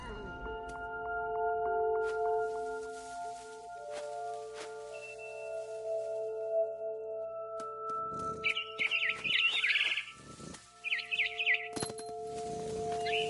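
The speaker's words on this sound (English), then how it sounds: "It was a barn swallow going back to her nest." A barn swallow in the video game What Remains of Edith Finch gives several quick, bright chirps in short bursts late in the clip, over a steady droning game ambience with sustained tones.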